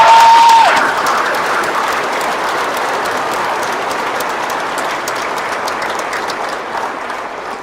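Sustained audience applause fills a graduation ceremony hall, loud at first after a brief tone, then settling into steady dense clapping from a large crowd.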